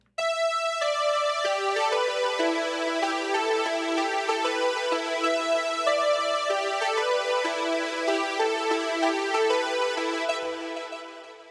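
A retro 1980s synthwave arpeggio run through a FabFilter Volcano low-pass filter and other effects, a steady bright pulsing synth pattern with sustained chords, loud and continuous throughout with no voice.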